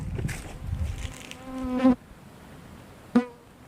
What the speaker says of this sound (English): A bee buzzing by my ear